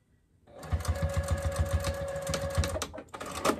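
A sewing machine stitches slowly through a bulky sleeve-cuff seam on an upcycled dog bed, its needle chattering in a steady, close rhythm that pauses briefly near the end.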